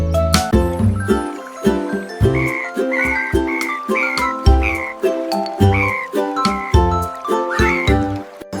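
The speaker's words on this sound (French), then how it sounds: "les grenouilles ont commencé à chanter des mélodies qui font chanter les cœurs" Frogs croak and chirp in a rhythmic series of short, bright calls, close and loud, set against a musical backdrop in a children's song.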